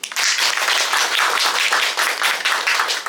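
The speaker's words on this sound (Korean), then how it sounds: "여러분들을 위해서 한번 박수 한번 쳐주시죠." An audience applauds at a Korean broadcast journalism awards ceremony, a dense, steady clapping that stays loud and continuous for about three seconds with no speech over it.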